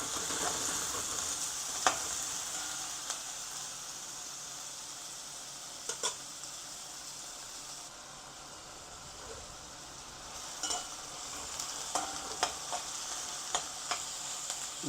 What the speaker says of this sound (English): So you remember all the onion and scallion that I cut up earlier along with the carrot. These are now being sauteed.